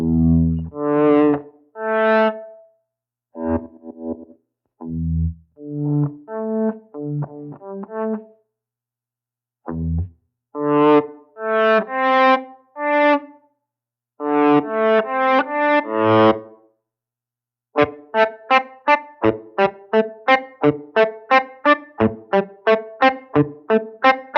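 Electro-Harmonix Pico Attack Decay guitar effects pedal with its decay shortened, clean electric guitar notes and chords played alone in swelling, clipped phrases, ending in a fast run of short repeated plucks.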